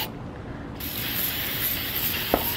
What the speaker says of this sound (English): I'm going to spray this down really well